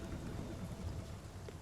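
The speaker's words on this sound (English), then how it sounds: "Oh, and there's the rain." Steady rain in the video game Spiritfarer, a faint, even hiss of falling water with low rumbling underneath.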